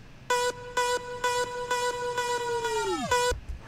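Synth tone processed by a frequency shifter turned up to 100%, sounding as five or six evenly spaced metallic bursts with bright inharmonic overtones, ending in a long downward swoop, alone and steady in level.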